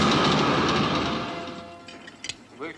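Passenger train from the James Bond film From Russia With Love, a steady rumbling roll of rail cars that gradually fades, with a few brief clicks and faint voices toward the end.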